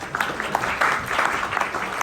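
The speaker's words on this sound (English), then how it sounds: "If I could get just a clap to give me consent." A group claps together in a short burst of steady applause, moderately loud, with a few voices faintly mixed in.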